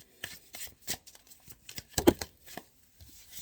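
Tarot cards being shuffled by hand, a run of quick, crisp flicking and riffling bursts at close range, with no talking.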